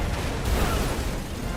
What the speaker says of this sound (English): Look at that explosion, Chris.